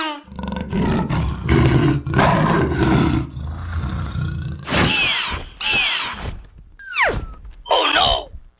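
A tiger growls and roars in deep, loud bursts, first a rumbling stretch and then several shorter snarling roars with pauses between, alone with no talk.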